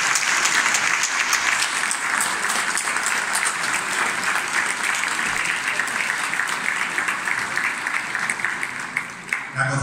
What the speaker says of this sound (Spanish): un fuerte aplauso para todas ellas